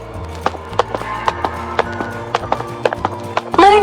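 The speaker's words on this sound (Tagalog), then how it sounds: "Narinig ko ang mga yabag" Footsteps in a Filipino horror audio drama: steady, hard, evenly spaced steps, close and clear over low, sustained background music, ending in a sudden swelling sound.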